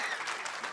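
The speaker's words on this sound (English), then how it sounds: "Give yourselves a round of applause." Comedy festival audience giving a round of applause, a dense, even patter of many hands clapping together for a brief moment, with no voices on top.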